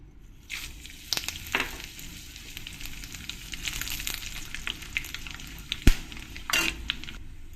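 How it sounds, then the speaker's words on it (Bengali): Whole spices (bay leaf, dried chilli and black cumin) hit hot mustard oil and sizzle loudly and close, with sharp crackles and pops bursting irregularly over a steady frying hiss. "তেলটা ভালো করে গরম করে নিয়েছি এবার আমি এর মধ্যে দিয়ে দেব কিছু গোটা মশলা তেজপাতা শুকনো লঙ্কা আর কালো জিরে"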